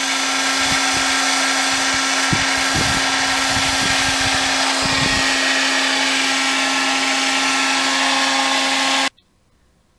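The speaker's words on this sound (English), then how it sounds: "I'm just using the hair dryer and spreading the epoxy out" A hair dryer blows hot air over epoxy during an aluminum lawn chair repair, a loud steady whine running for about nine seconds with light knocks and scrapes underneath, then cutting off abruptly to near silence.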